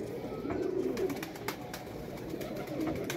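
Pigeons cooing in soft, repeated low calls against steady outdoor background noise, with a pause and then another round of cooing near the end.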